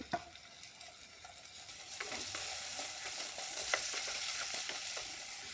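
Chopped shallots frying in oil in a pan for a Kerala-style shark curry, a steady moderate sizzle with scattered crackles and occasional stirring clicks, no talk.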